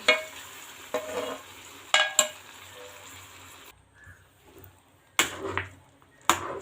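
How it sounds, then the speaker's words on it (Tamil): Hot caramel poured into halwa bubbles and sizzles steadily, with sharp clattering bursts from the pan and utensil at irregular moments, close and moderately loud. "நம்ம கேரமல் ஊற்றும்போது இதுமாரி கொதித்து வரணும், பபுள்ஸ் வச்சு"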